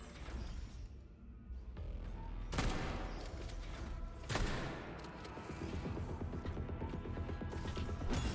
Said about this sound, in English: This shotgun really ain't impressing me at all.